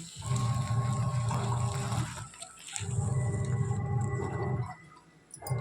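Water surges into a washing machine tub during a cleaning, giving a loud gurgling rush that swells, cuts off briefly, then swells again at close range with no speech.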